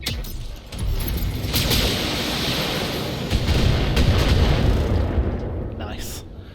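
Mech weapons fire rumbles and booms as a turret is destroyed in the video game Battletech, a sustained heavy barrage of low blasts and crackle, loud and close throughout.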